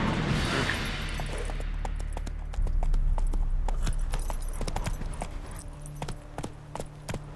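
Horse hooves clip-clopping at a rapid galloping rhythm in The Witcher 3: Wild Hunt, steady sharp beats over a constant low rumble of ambient game sound.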